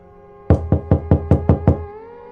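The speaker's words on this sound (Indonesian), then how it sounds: "Tiba-tiba terdengar suara ketukan pintu." Seven loud, evenly spaced knocks on a door, close and alone with no voices, used as a sound effect in a horror story.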